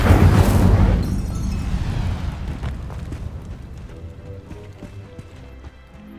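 An Incendio fire spell is cast in Hogwarts Legacy: a loud fiery burst and whoosh at the start, then a rumbling tail that fades over several seconds amid faint game ambience.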